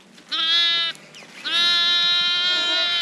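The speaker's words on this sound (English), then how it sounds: "Noisy little ewes." Ewes bleat loudly at lambing time on an Australian sheep farm, two long wavering calls close by with a short pause between, no talking.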